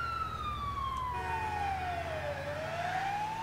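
Ambulance siren from the video game LCPDFR wails in a steady, loud sweep that dips then climbs again, over a constant low engine drone with no talking.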